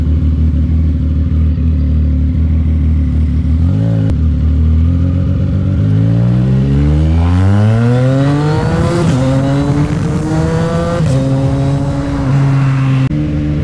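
A CFMOTO 675NK motorcycle ridden on a wet road, its engine rising through several gear pulls with climbing revs and brief shifts, loud and close throughout, no voices.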